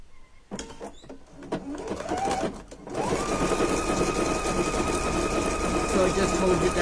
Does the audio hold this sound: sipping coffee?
no